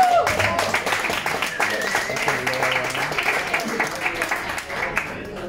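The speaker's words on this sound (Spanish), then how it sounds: "Un aplauso a él." An audience at a Chilean jazz performance claps for the bassist in loud, close, continuous applause, with a low sustained tone and faint voices mixed under the clapping.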